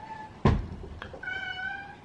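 A sick pet cat meows indoors, a close, drawn-out harmonic cry after a couple of knocks or thumps, alone with no talk.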